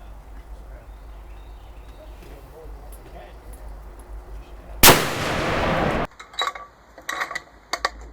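A single loud Alamo Precision rifle shot at an outdoor target range, followed by a ringing roar and a few sharp clicks and clatters of the rifle's action.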